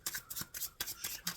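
Tarot cards are shuffled in quick, crisp bursts, each riffle a short papery snap that repeats in an uneven rhythm, close and moderately loud with no talking.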